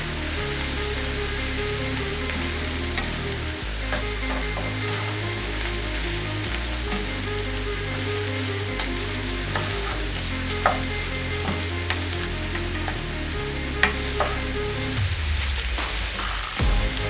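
Mixed vegetables fry in a pan for a healthy vegetable dish, giving a steady, close, loud sizzle with stirring scrapes and clatter throughout. No one speaks.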